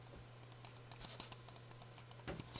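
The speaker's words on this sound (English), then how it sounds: "So you can hear the clicking." Rapid computer mouse clicks held close to a Turtle Beach headset microphone, a steady train of small sharp ticks over a faint constant hum, with a few slightly louder clusters.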